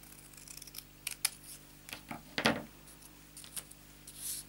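Scissors snip through a paper sentiment to halve it for a handmade card, a few sharp, close cuts spaced irregularly, with a louder cluster of snips midway and small handling rustles between.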